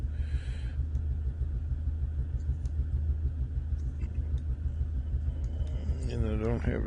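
A Cessna 152 engine in Microsoft Flight Simulator drones as a steady low rumble throughout, with a voice talking over it.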